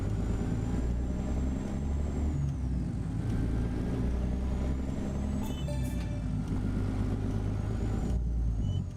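Air brakes on a simulated American truck fitted with a CAT 3406B engine, with hisses and brief releases over a steady low engine rumble, fairly close and continuous.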